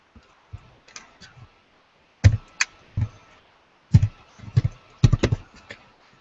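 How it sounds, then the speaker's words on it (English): Laptop keyboard typing comes in scattered clicks, sparse at first, then denser bursts of keystrokes, close and fairly loud against near silence, with no talk. "I can always hear you when you're typing on your laptop, Monica."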